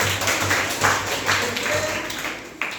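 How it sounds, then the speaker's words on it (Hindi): A class of schoolchildren claps for a classmate's correct answer, a dense continuous patter of many hands filling the room at steady loudness. "शाबाश, ताली बजाइए।"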